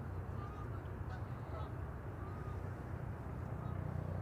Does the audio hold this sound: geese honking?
yes